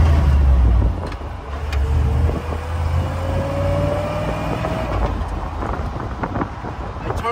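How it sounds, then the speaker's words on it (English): A car is driven up through its gears with the windows and back window open. The engine and exhaust note rise steadily in pitch, drop at each shift and climb again, close and loud, with wind buffeting the microphone. "I turned off the AC and opened the windows and the back window so you get a sense of the exhaust note."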